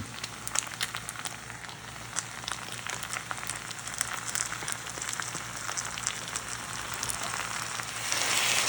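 Crushed tomatoes stirred into a hot pan for Spanish rice, a dense, rain-like sizzle with scattered crackles and pops, steady and close, building slightly louder at the end, with no voices.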